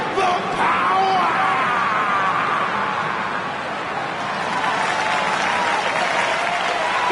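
Crowd applause and cheering in the wrestling video game WWE 2K19, a loud sustained wash of clapping with scattered yells and whoops, steady throughout with a slight dip midway.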